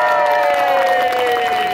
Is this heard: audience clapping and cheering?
yes